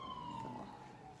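An emergency vehicle siren wails outside as it passes, a steady falling tone that stays fairly faint and distant through a quiet room.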